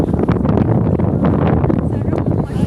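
Strong wind buffets the microphone in a continuous, gusty roar, loud and close, with faint rustling beneath, outdoors in Jeddah.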